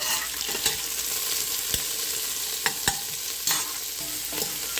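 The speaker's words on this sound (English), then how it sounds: "Now I will add the onions and saute it till it is pink" Onions sauté in a pan, a constant bright hiss of frying with a few scattered sharp knocks of a spatula against the pan, close and alone without voices.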